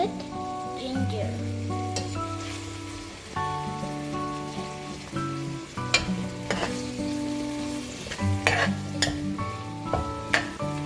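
Ginger dropped into hot seasoned oil for chicken curry, crackling and popping with busy stirring and scraping, while steady tonal hums and sharp spatula clicks break through over the sizzle.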